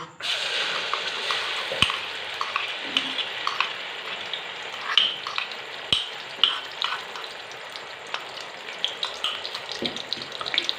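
Onion paste sizzling in hot oil in a village kitchen pan for vegetable kofta, a steady frying hiss broken by stirring scrapes and a couple of sharp clanks, close and alone.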